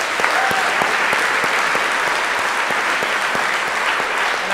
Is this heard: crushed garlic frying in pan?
no